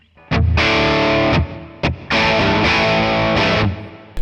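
Crunchy, overdriven electric guitar chords through a JT100 crunch amp model, strummed in sustained bursts with short pauses between them, loud and close, no voices.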